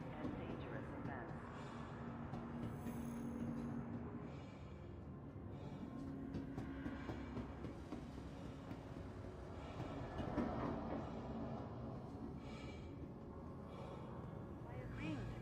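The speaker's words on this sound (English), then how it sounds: "Now arriving, Aesop Spaceport. Please watch your step when disembarking the train." A train arriving at a spaceport in the video game Star Citizen, a steady rumbling, rolling rail noise that continues throughout at moderate level, with faint tonal whines and a slight swell near the end.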